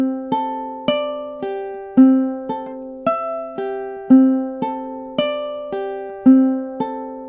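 A ukulele plays measures 13 and 14 of a beginner song, about a dozen clear plucked notes and chords in a steady rhythm, each decaying quickly. It is close and heard alone.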